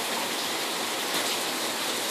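Rain falls steadily at a bushcraft campsite, a dense continuous hiss of drops that stays even and moderately loud throughout, with no voices.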